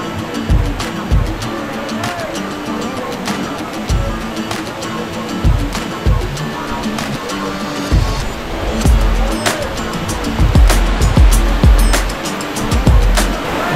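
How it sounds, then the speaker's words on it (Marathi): A waterfall near Kolhapur pours in a loud, continuous broadband roar heard up close, with uneven surging swells and low thumps from the falling water. "तर हा धबधबा जो आहे हा आपण पाहायला आलो आहे."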